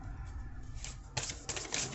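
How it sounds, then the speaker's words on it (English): Oracle cards shuffled by hand from a deck, giving soft papery riffles and crisp slapping bursts that build toward the end of the short stretch, close and fairly quiet with no talk. "I'm going to pick randomly from the deck, just shuffling 3 times for each sign"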